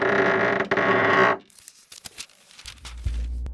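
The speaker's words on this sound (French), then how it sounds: "la petite fée décide de leur ouvrir la porte" A door creaks open in a children's fairy-tale audiobook, a brief creaking and tearing-like mechanical sound after a dense musical passage, then quieter scattered clicks and a low rumble; no speech.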